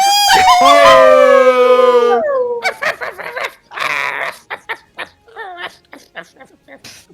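A person imitates a dog, starting with a long rising howl and then giving a string of short yips and barks, loud and close.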